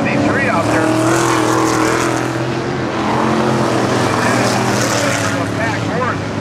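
Race cars roar past at the Glenridge racetrack during a night of racing, a loud, continuous engine drone that swells and fades as the pack passes, with an announcer talking over it.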